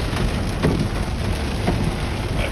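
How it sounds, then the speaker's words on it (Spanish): Heavy rain pours in a steady, dense hiss during a hard storm, loud and continuous throughout with no voices over it. "una tormenta muy duro y vamos"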